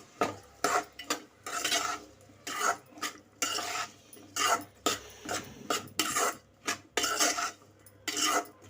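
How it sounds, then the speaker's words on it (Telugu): A spoon repeatedly stirs and scrapes salted pakodi curry in a pan, making rhythmic rasping strokes with metallic clinks. The strokes come roughly every half second, close and clear, with no voices. "ఇప్పుడు సాల్ట్, ఇప్పుడు కలబెట్టుకుందాం ఒకసారి బాగా"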